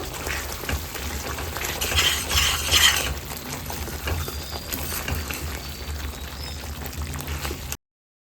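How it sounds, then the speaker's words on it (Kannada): Ghee roast masala for prawns frying and drying out in ghee, with a steady soft sizzle and occasional stirring scrapes, a brief louder burst of activity around the middle. "ಇವಾಗ ಸ್ವಲ್ಪ ಸ್ವಲ್ಪನೇ ತುಪ್ಪ ಹಾಕ್ಕೊಂಡು ಮಸಾಲೆ ಫುಲ್ ಡ್ರೈ ಆಗೋ ಥರ ಫ್ರೈ ಮಾಡ್ಕೋಬೇಕು"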